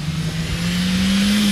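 A 2017 Dacia Duster's engine drones steadily and loud, its pitch rising as it pulls hard through a turn, with no voices over it.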